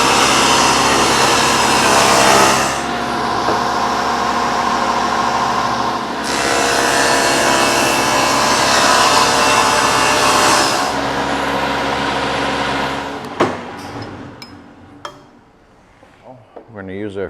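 A power saw cuts a cherry wood board for a serving tray, loud and steady, its pitch shifting through two passes as it bites in, then spinning down near the end into scattered clatter.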